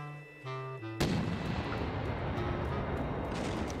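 Gunfire crashes in after a short musical tone, a single heavy blast followed by a rumbling, noisy tail that lingers for a few seconds.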